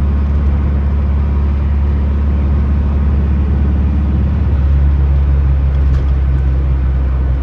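Cars pass steadily around a town square on a quiet Sunday morning, with continuous engine rumble and tire noise close by and no talking.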